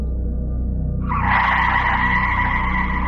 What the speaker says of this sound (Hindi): अचानक से एक ख़तरनाक मोड़ पे जीना ने तेज़ी से गाड़ी मोड़ी